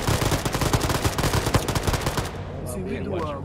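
Dense rapid gunfire from a military firefight in the Arma 3 shooter game, loud bursts and repeated shots packed together for about two seconds before thinning into quieter background rumble.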